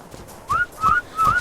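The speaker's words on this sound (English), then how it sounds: "I just saw them and I whistled my ape in" Three short rising whistles from a player calling a tamed ape in the video game Ark: Survival of the Fittest, evenly spaced and clear over faint background noise.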